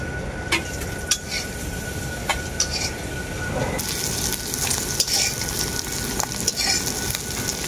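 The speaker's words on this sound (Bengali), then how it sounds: "চিংড়ি মাছগুলো আমার খুব ভালো করে ভাজা হয়ে গেল, এখন তুলে নেব" Small shrimp fry in hot mustard oil in a pan, a loud continuous sizzle and crackle with scattered sharp pops, growing denser and brighter partway through, with no voices over it.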